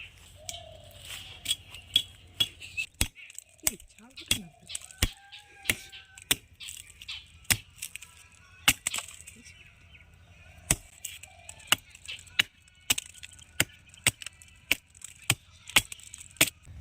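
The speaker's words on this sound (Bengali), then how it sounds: "এই গাছের আমি ছাল কেটে নেব তার জন্য একটা কাটারি নিয়েছি আমি এটা দিয়ে ছালটা কাটবো" A dull billhook cuts bark from a neem tree outdoors, sharp hacking chops repeated at a steady, fairly even rhythm over faint birdsong and distant background sounds.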